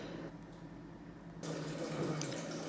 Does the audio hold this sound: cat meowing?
no